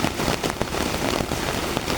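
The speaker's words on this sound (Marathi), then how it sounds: "आणि आता जोरात पाऊस पडत आहे" Heavy rain pouring down in a village setting, a dense, constant hiss of drops striking surfaces with scattered sharper splashes and no voices.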